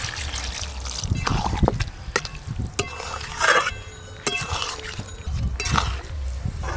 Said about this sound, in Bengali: তাই কম করে একটু জল দিলাম